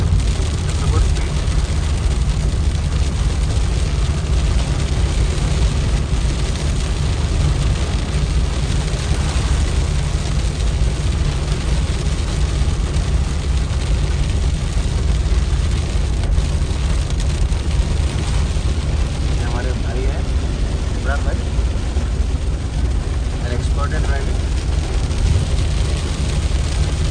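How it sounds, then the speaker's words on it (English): Heavy rain drums on a car cruising at 80-90 km/h along a highway near Bareilly, India, a dense steady roar blended with road and engine noise that never lets up. "you can see the rain very heavy right now"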